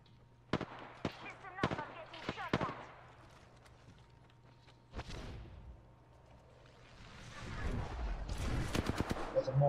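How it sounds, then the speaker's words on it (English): Explosions from a mortar strike in a video game crack in a quick cluster of sharp blasts, followed by a rising rumbling roar, with players talking over the gunfire. "There's a mortar strike right above us."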